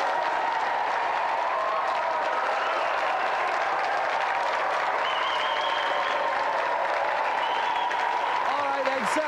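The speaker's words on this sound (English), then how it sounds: "Round of applause for our three challengers." A studio audience at a video game challenge show applauds the three challengers in continuous, dense clapping with crowd noise, while a host's voice carries over the top.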